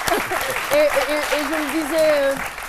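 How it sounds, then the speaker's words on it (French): Studio audience applause on a French-language midday TV talk show, a steady wash of clapping that runs the whole time beneath a speaking voice. "Ça me fait tout drôle de me faire applaudir aujourd'hui"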